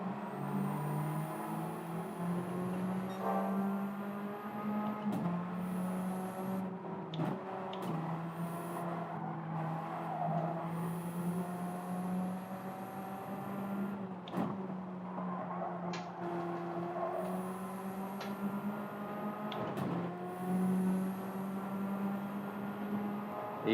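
Purpose-built track race car engine in Gran Turismo 7, a faint steady drone that rises and falls in pitch with gear changes, sharp brief shift blips recurring every few seconds.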